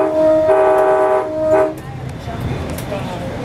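A BNSF freight train sounds a loud, steady horn blast for about a second and a half, then a shorter toot, heard from aboard a passing Amtrak train as rail rumble continues beneath.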